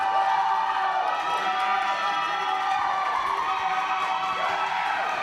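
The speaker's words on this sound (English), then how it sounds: "And it's a raucous crowd here for the minus 59 kilogram categories." Raucous crowd at a junior taekwondo tournament in the men's minus-59-kilogram division, a continuous, moderately distant roar of cheering and shouting that swells slightly at times.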